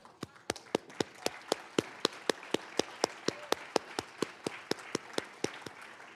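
Evenly spaced, crisp claps keep a steady beat at an annual institute celebration. The rhythm holds for about two dozen sharp hits over a faint room background, with no talking.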